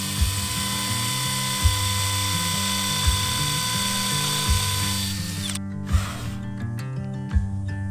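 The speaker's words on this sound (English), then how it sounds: "I've got a new drill bit that should fit my drill" A power drill with a new bit whines steadily with regular knocking thumps as it bores into a rock slab, then the motor cuts out, leaving a few scattered knocks.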